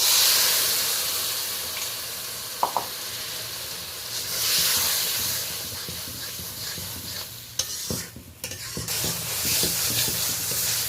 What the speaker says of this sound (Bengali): এই পর্যায়ে আমি গুঁড়ো মশলার পেস্টটা দিয়ে দেব।